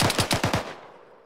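A short burst of about five rapid gunshots in the video game Arma 3, close and loud, with the echo fading quickly after the last shot.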